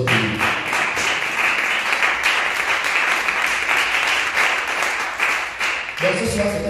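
Church congregation applauding steadily and cheering loudly, the clapping sustained and dense, with voices rising over it and a brief shift at the end.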